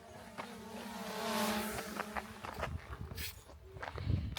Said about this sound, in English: as the drone flies past